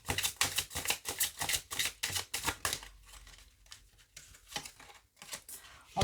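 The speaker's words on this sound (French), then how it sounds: "Je vais vous tirer 3 cartes aussi." Oracle cards from a flower-of-life deck being shuffled, a rapid run of crisp riffling flicks followed by slower, sparser card snaps and slides, close and alone.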